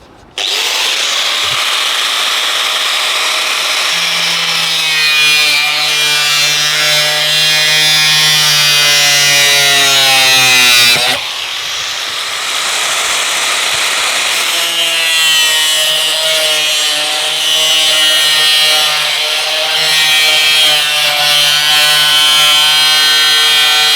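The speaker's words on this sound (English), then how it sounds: "just watch your fingers when you're using the grinder" Angle grinder cutting a sliver out of PVC storm water pipe, a loud, steady high-pitched whine with shifting tone as the disc bites, briefly dipping midway before resuming close up.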